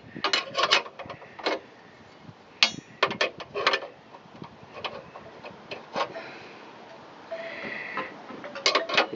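Ratcheting wrench turning bolts while a trailer hitch is installed on a Buick Rendezvous, heard as repeated bursts of quick mechanical clicks and clatter with short pauses, fairly close and alone.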